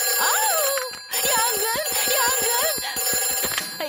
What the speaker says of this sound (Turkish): O itfaiye telefonu.